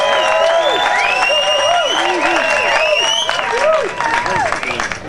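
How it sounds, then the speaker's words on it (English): Crowd applause and cheering for the St Vincent de Paul float at a MardiGrass 2008 parade: loud, dense clapping with rising whoops and shouts that run steadily throughout, easing slightly near the end. "St Vincent de Paul's crowd response to those lovely ladies who do such wonderful work."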